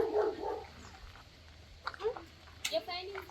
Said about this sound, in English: Yes, one little puppy, one little German Shepherd, yeah.